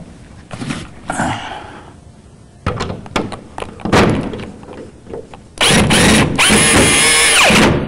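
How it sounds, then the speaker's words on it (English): A power drill drives screws through a sauna door into the outside door handle, loud, continuous whirring for the last few seconds after scattered knocks and handling thuds. "you're going to screw it right to your outside door handle"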